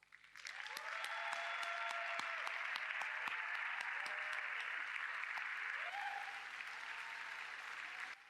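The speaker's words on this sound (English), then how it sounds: "Please stand up and let's give them a round of applause." A large audience at a women's sport event bursts into steady applause that builds within a second and holds for several seconds, with faint voices and cheers rising through the clapping.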